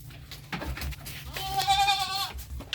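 A goat bleats once, a wavering nasal cry rising over faint rustling and soft background noise, close to the listener.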